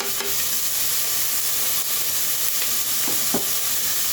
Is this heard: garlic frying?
yes